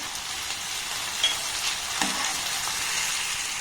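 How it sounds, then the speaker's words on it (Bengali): Tempering spices for a tadka sizzle and crackle in hot oil, a steady, close hiss with a few sharper pops, and no talking. "তাই দেখুন একটা তরকা আমি বানিয়ে নিচ্ছি এইভাবে"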